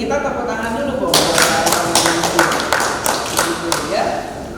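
An audience claps at a ministerial address to an Indonesian trainers' association: a run of scattered, sharp claps rises under a speaking voice, then thins out.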